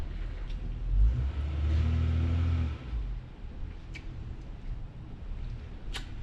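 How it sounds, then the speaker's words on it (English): Subaru WRX with a Grimspeed front-mount intercooler, its engine revving loudly in a brief low rumbling burst before settling back to a steady idle, with no talking. "My neighbors hate me because my car is loud."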